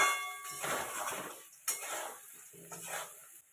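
Potatoes and onions being stirred in a cooking pot, a spoon scraping and knocking against the metal in a few sweeping strokes with a faint sizzle underneath.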